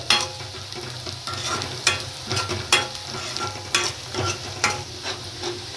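Sabzi masala spices roast in a pan over a medium flame while a spoon stirs and scrapes them, giving a steady sizzle broken by rhythmic scraping strokes about once a second. Close and clear, with no talk.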